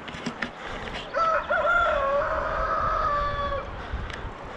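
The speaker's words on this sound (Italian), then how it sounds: "Il gallo canta un po' in ritardo." A rooster crows once in a long, wavering call at a mountain roadside on the climb toward Fraciscio near Madesimo, heard against a steady outdoor background at moderate distance.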